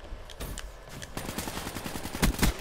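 AK-74 hip-fire gunshots in Black Ops III multiplayer, a rapid string of automatic shots at close range, growing denser and louder toward the end.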